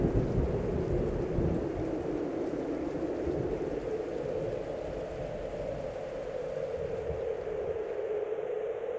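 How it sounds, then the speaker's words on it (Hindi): A thunderstorm rumbles with deep, rolling thunder under a steady hiss of heavy rain, dense and continuous throughout before easing slightly near the end, with no voices. "चारों ओर घने बादल छाए हुए हैं। तूफान उठ खड़ा हुआ है।"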